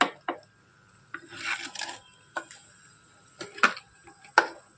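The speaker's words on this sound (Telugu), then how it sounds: "మెత్తళ్ళు అయితే వేగిపోయినాయండి. తీసేస్తున్నాను ఇందులోకి." Fried anchovies (nethallu) being lifted from the pan into a dish, a few sparse metallic scrapes and clinks of a spoon against cookware, quiet with short gaps between.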